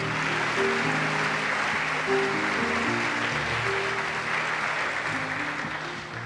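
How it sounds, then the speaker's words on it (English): Audience at a Dairy Festival pageant applauding young float participants, a dense, steady wash of clapping sustained throughout and easing slightly at the end. "Let's give them a round of applause for their hard work."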